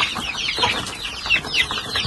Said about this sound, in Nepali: हाम्रो सानो सानो चल्लाहरू छन्।